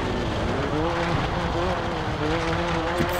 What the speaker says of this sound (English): I'm actually driving a WRC car that has six gears